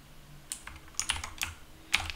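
Quick bursts of keystrokes on a computer keyboard while a command is typed, close and crisp clicks in short irregular clusters with quiet pauses between, no voices.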